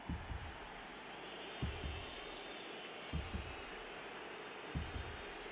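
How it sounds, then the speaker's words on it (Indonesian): Heartbeat sound effect in FIFA 23 during a tense match moment, soft, low double thumps repeating at an even pace under steady crowd noise. "ada suara detak jantung sih"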